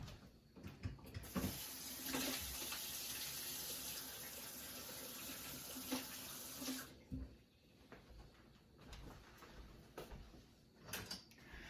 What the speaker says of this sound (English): I'm going to go wash my hands quick